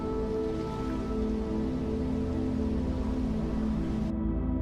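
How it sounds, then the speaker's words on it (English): Steady rain patters in the survival video game Atlaga, a constant hiss mixed with gentle background music that holds evenly throughout. "Look at this rain."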